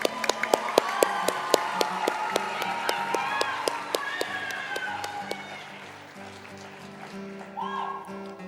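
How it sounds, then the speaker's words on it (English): An audience at the FFA State Leadership Conference session claps steadily in a crisp, regular rhythm for the Alumni of the Year, sustained over several seconds with a faint tonal background and some voices. "Let's get one more round of applause for our Alumni of the Year"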